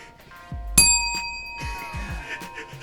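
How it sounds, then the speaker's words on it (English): A bell is struck once with a bright, ringing clang that sustains and decays, followed by softer knocks and clattering in a quiet room. "Alright, John, I'm gonna go over and get that bell."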